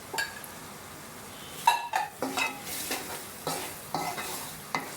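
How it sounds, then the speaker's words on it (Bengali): Prawns stirred into an oily spice masala in a hot pan, with repeated scraping spatula strokes over a steady close sizzle and occasional clinks of metal on the pan, no voices. "চিংড়িটা নিয়ে ভালো করে মাখিয়ে নিব মশলার মধ্যে।"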